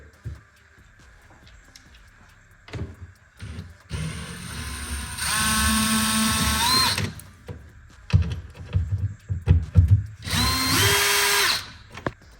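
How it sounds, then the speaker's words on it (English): A power drill backs T15 Torx screws out of a C8 Corvette in two loud whirring bursts, with quieter clicks and handling noises around them. "we're going to remove 15 T15 Torx head screws right here"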